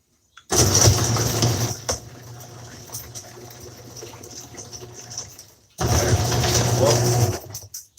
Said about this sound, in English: I might have to close this garage door so I can get full heat